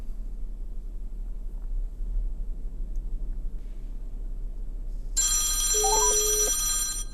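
A phone call rings through a SmartBox Plus wireless CarPlay and Android Auto adapter in a car, a steady electronic ringtone starting partway in over a low constant cabin rumble, with no talking.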